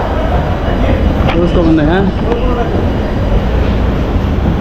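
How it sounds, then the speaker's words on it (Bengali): An Indian metro train runs steadily on the way to Park Street in Kolkata, its loud continuous rumble and roar filling the whole clip while a person speaks briefly over it. "আমরা এখন ডিরেক্ট মেট্রোতে করে চলে যাবো পার্ক স্ট্রিট আর এটা হচ্ছে ইন্ডিয়ান মেট্রো"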